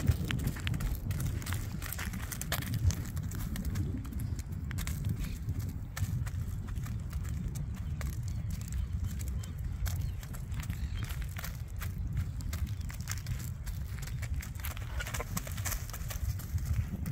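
Hooves of a purebred Criollo horse clip-clopping on hard ground in a steady walking rhythm, fairly close, continuing throughout.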